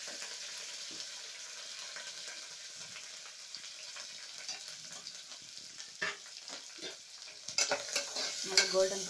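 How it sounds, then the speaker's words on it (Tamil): Chickpea masala curry frying in a pan, a quiet hiss at first, then stirring clinks and scrapes that grow louder and more frequent toward the end. "நல்லா கோல்டன் ப்ரௌன் வர வரைக்கும் ஃப்ரை பண்ணலாம்."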